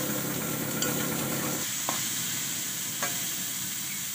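Gourd and potatoes fry in a pan with tempering spices, a constant loud sizzling hiss broken by a few faint scrapes of stirring.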